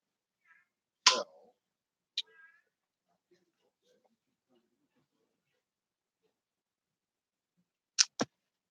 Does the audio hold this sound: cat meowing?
yes